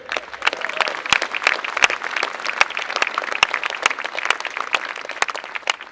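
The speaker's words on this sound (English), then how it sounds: "I think the Society deserve a great cheer." A crowd at a Westport 1916 centenary commemoration event applauds the organising society, a lively, fairly close round of clapping with scattered sharp hand claps, sustained and even without any talk.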